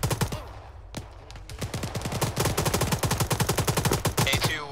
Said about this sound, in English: We're taking fire from behind us.